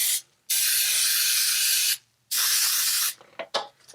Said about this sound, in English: when I spray these things